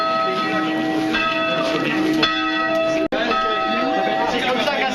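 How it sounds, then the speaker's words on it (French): Church bells swung by a bell ringer in a Quimperlé cemetery on Pentecost Sunday ring loud and close, overlapping metallic strikes with long sustained tones, briefly cut by a momentary dropout, while voices murmur underneath. "Sonneur de cloche, équipé."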